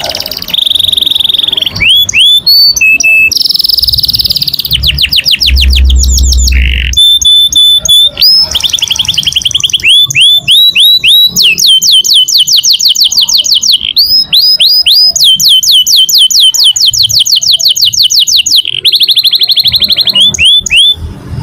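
A competition-ready canary sings loud and close, pouring out long, nonstop runs of rapid trills, whistles and sharp chirps that keep shifting in pattern.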